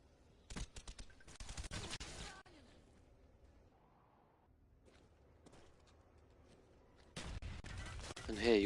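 Bursts of gunfire in Call of Duty, two players opening fire face to face: loud rapid volleys early on, a quieter lull with softer sounds, then a dense, loud burst of shooting toward the end.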